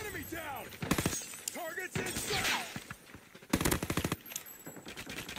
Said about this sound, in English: Got my Tommy gun. Say hello to my little friend!